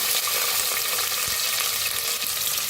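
Chopped onion frying in hot ghee with mustard seeds and cumin, a steady close sizzle throughout with faint stirring, no voices.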